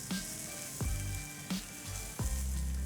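Corn kernels and spring onion greens tossed in a hot pan over lowered flame, a constant loud sizzle broken by repeated scraping swishes as the pan is stirred.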